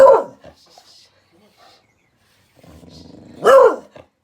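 A dog gives a sharp bark, then after a quiet pause whimpers and lets out another louder bark-whine at another dog during a brushing session.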